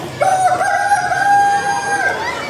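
A rooster crows one long, loud, close cock-a-doodle-doo, a steady drawn-out call that holds before dropping off at the end.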